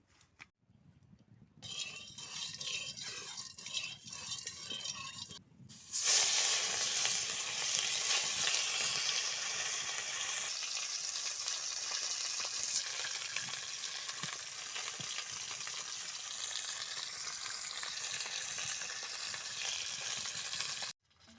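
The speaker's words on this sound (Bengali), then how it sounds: "আমি মাছটা ভেজে রান্নাটা বসিয়ে দিই" Fish fries in hot oil with a loud, continuous sizzle that flares up sharply after a quieter opening stretch, with occasional clinks, heard close and alone.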